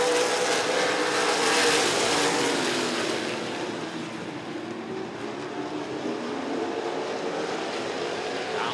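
Late model race cars running single file around Rockford Speedway, a continuous engine roar that swells and eases as the pack passes, heard from a distance with a broad crowd-like wash.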